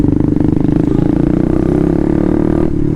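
Raider 150 Fi motorcycle with a remapped stock ECU, revving steadily at high RPM close by, a buzzing, continuous engine drone that holds for about three seconds and eases slightly near the end.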